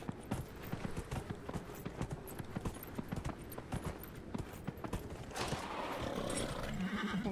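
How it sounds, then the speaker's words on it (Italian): Rhythmic clip-clop of horse hooves in the video game Dragon Age: Inquisition, a steady trotting beat at moderate volume, shifting toward a brighter wash of ambient noise near the end. "che bello il cavallo"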